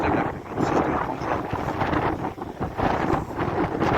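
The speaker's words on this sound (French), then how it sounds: "il y a du vent" Steady wind buffeting a microphone on a coastal road near Pont-sur-Yonne, a continuous rough roar rising and falling in gusts with no voices.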